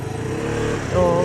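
A small motorcycle engine drones close by on a street of souvenir shops outside the Church of the Holy Sepulchre, its pitch rising briefly as it revs over a short stretch of steady rumbling.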